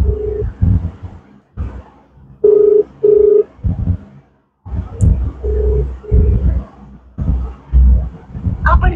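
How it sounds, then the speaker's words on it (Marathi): An outgoing phone call rings back through a handset, repeated paired electronic ring tones separated by gaps, with a voice talking in between, close and clear. "रिंग होतीये."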